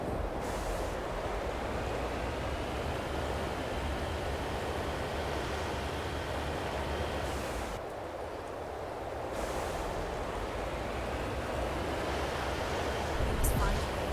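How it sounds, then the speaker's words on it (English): A steady broadband rushing roar of a waterfall in the game Mass Effect plays continuously at moderate level, briefly dipping midway, with a voice talking over it at times. "that waterfall sound or whatever it is starting to annoy the fuck out of me"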